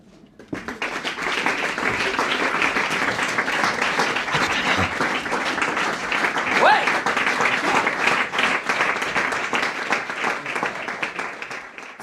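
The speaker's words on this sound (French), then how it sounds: "il y a des gens qui applaudissent." Audience applause at a show, a dense crowd of clapping that starts abruptly, stays steady and full for about eleven seconds, then begins to thin out.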